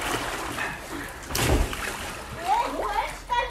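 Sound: splash of a girl jumping into a swimming pool

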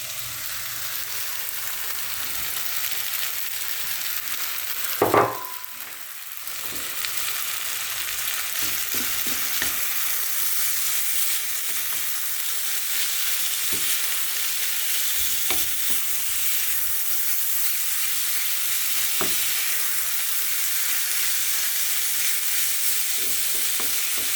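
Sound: garlic and vegetables frying in a pan

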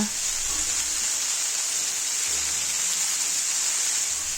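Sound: frying spices and garlic ginger paste for bean poppy curry

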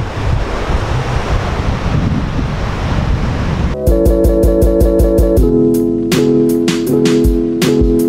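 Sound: sea waves on the Moroccan coast at high tide

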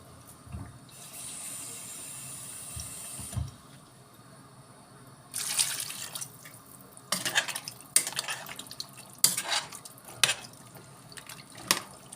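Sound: pouring water into pot of beans

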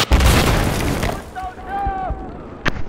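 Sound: cruise missile explosion in the video game Battlefield 4

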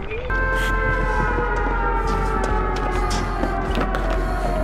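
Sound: sirens in the video game Dead by Daylight

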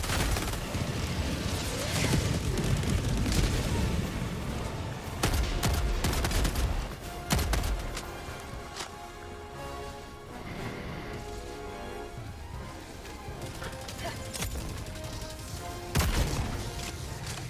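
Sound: rocket explosion in the video game Helldivers

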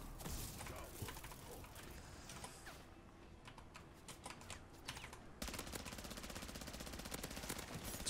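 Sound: gunfire in Modern Warfare 3 Zombies, a video game

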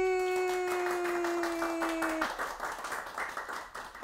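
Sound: applause from studio staff

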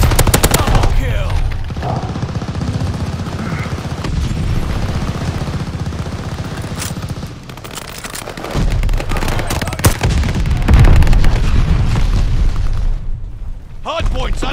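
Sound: gunfire and explosions in a video game

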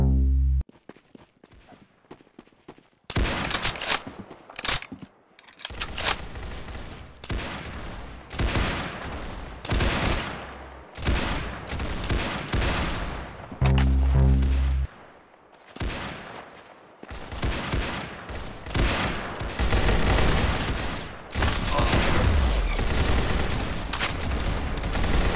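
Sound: gunfire in a first-person shooter video game

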